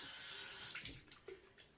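Water splashing and dripping as a face is wetted at a sink before razor shaving, a brief quiet run of close splashes that trails off into drips.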